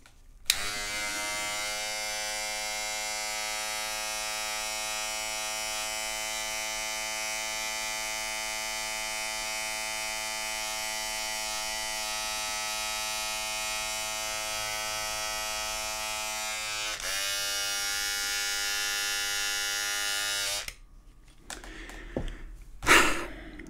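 An electric razor buzzes steadily and loudly for about twenty seconds with a strong harmonic drone, changing pitch briefly near the end before cutting off, followed by faint breathing sounds.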